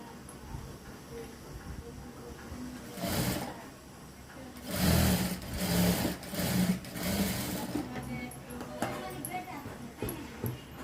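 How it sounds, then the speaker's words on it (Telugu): Sewing machine running in short bursts while stitching a blouse sleeve seam with a double stitch, its rhythmic whirring close and moderately loud, with pauses between runs and a voice talking over it. "ఇక్కడ నేను డబల్ కుట్ అయితే వేస్తున్నానండి"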